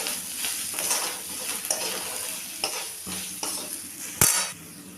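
Turmeric, salt, spices and chopped green chilli stirred together in a pan for chicken patties, a steady soft sizzle broken by several scraping spatula strokes, with one sharp clink of utensil on pan near the end, close and without talk.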